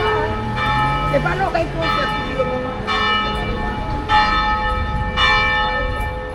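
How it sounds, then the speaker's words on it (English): The bells of Saint-Louis Cathedral in Martinique ring at noon, loud and sustained, with strikes repeating about once a second over a steady ringing drone on a city street. "So it is noon. No, it is what? Yeah, it is noon. So that's why the bells are going off."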